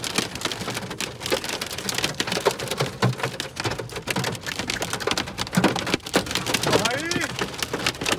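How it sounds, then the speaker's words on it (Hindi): Heavy rain and hail pound down steadily around a vehicle in Delhi after a match, a dense, loud roar of drops with scattered sharper impacts and people talking over it. "ओले आ रहे अंदर भी"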